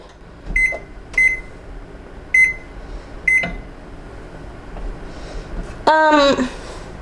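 Four short electronic beeps from a kitchen timer sound at spaced intervals, clear and near, followed by a brief rising voice-like chirp at the end.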